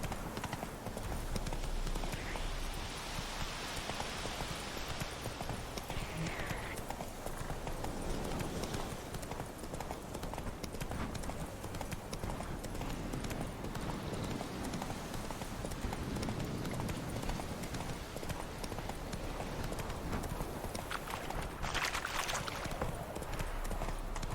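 Geralt's horse Roach running in The Witcher 3, steady rhythmic hoofbeats that continue throughout under a dense layer of game ambience, with faint background voices.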